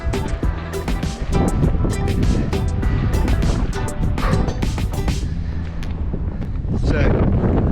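Strong wind buffets the microphone on an exposed coastal hilltop walk in Cornwall, a loud, continuous roaring rush with gusts rising and falling throughout.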